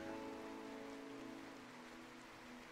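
Steady rain falls in the video game RimWorld, a soft continuous patter and hiss that holds even and fairly quiet throughout, with no voices.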